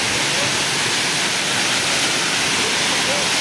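Balagbag Falls pours with a loud, steady broadband roar of heavily rushing water, continuous and close throughout.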